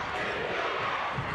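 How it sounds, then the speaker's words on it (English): A high school boys basketball crowd in a gym chants together in a loud, rising roar that sounds a little distant and fills the room. "UDA, the crowd chanting UDA."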